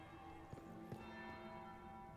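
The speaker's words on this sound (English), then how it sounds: "That's the bell." A church-style bell in the Dragon Age Inquisition video game, at the Winter Palace ball, sounding two distinct struck tolls with ringing overtones against a steady ambient background, no talk.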